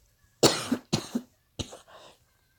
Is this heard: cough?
yes